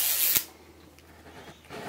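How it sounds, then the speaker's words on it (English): A zipper is opened on LOL Halloween doll packaging, a short, close, bright rasp at the start followed by quieter faint rustling and small scraping sounds. "we're going to start opening up the zipper now"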